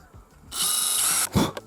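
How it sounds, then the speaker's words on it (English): A drill boring a tiny pilot hole using a Wolfcraft 4685 perpendicular drilling guide, a short high-pitched whine lasting under a second, close up, followed by a brief scrape as the bit pulls out. "I have to drill a tiny hole first."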